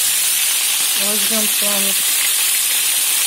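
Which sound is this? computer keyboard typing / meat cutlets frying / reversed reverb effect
meat cutlets frying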